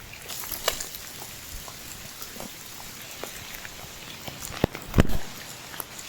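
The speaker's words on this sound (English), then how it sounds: "It's raining, but not to the point where I'm gonna start slipping." Light rain falls in a Southeast Asian rainforest, soft scattered drops pattering on leaves, with a few sharper nearby knocks and a brief louder thump near the end, no voices.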